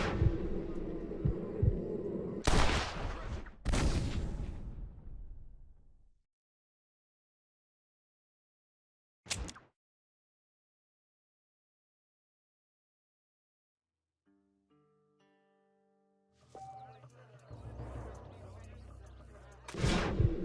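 Gunshots ring out in the Red Dead Redemption video game: two sharp loud cracks close together, a single shot several seconds later, then a stretch of near silence before rumbling game ambience returns.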